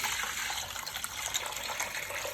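Liquid from cooked palm kernels is poured through a sieve into a black saucepan, a continuous close splashing gush with no pauses.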